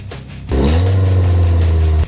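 A Mitsubishi Colt with a 1.3-litre, 75-horsepower engine, prepared for a wreck race, idles briefly and then revs into a loud, steady, close-up engine drone that holds for about a second and a half before cutting back.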